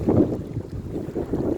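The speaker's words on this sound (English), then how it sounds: "Oh, it's windy" Wind blowing by the River Thames at Canary Wharf at low tide, gusting buffets against the microphone in a rumbling, uneven rush that swells twice, with water lapping beneath and no talk.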